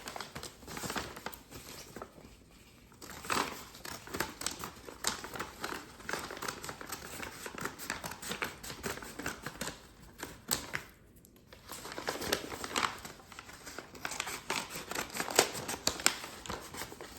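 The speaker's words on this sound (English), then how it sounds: "Your first step is to cut the bottom off of the paper bag." Scissors cut through a brown paper bag, snipping off its bottom in a run of crisp, papery crunches and crinkles that come close and moderately loud, pausing briefly twice.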